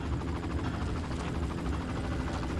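A helicopter in the Far Cry PC game gives off a continuous, dense rotor drone that stays steady and fairly loud throughout, with no other sound standing out.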